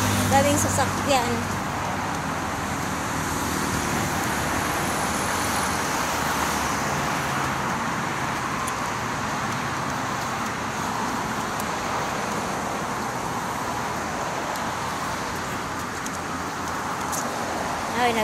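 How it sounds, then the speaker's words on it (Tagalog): Steady road traffic roars nearby as many vehicles pass in a continuous wash, with a person's voice briefly heard over it near the start. "Daming sasakyan."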